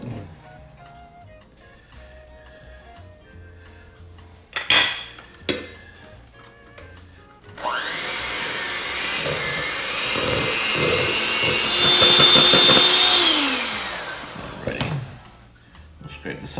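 An electric mixer creams cream cheese in a bowl, whirring loudly for several seconds after some clattering, with someone talking before and over it.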